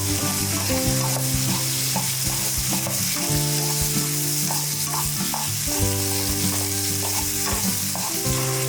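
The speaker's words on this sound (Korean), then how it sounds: "홍고추를 넣고 빠르게 볶아주세요." Red chili being stir-fried quickly in a pan for a garlic-sauce sea snail dish, a close, steady sizzle broken by repeated clattering scrapes of a utensil stirring, with no voices.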